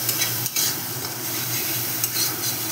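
Ground spices and ginger sizzle in hot oil in a pan for soybean kosta curry, a steady frying hiss broken by a couple of stirring scrapes.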